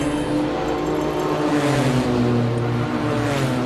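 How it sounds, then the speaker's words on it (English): A loud race car at the Simola Hill Climb roars in a steady, sustained engine note, close and prominent, with no talk over it. "Sure, that's a loud car."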